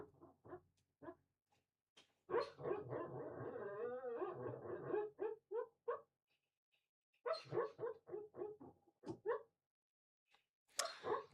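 A dog whimpers and yips softly in its sleep while dreaming, a series of faint, muffled squeaks and small broken cries in irregular bursts with quiet pauses between, somewhat distant in an indoor room.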